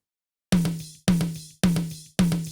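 An edited tom track plays back four tom hits in a steady, evenly spaced row. Each hit is punchy and resonant, with a short decay, and the hits sound alone with no talking.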